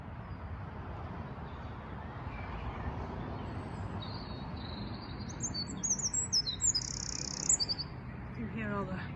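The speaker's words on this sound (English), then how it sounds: "You can hear all the blackbirds." Blackbirds sing outdoors among greenery, with scattered high phrases that grow clearer in the second half. Steady low outdoor noise runs underneath throughout.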